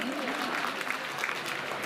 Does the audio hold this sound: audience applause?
yes